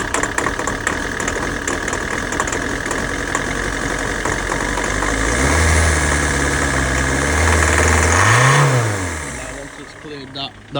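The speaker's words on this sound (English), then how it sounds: "you can see kind of the engine rattling" A Citroen C5 engine in badly worn condition idles roughly with a rattling, knocking clatter, revs rising and falling midway, while a person talks over it.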